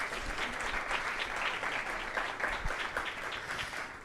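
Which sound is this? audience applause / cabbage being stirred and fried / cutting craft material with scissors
audience applause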